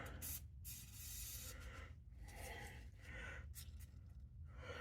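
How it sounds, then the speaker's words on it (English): Bursts of hissing aerosol penetrating oil sprayed into a cable on a 1987 Toyota Tercel come in several short blasts with brief gaps between, close and fairly loud. "Spray it in there, and I'll move it back and forth."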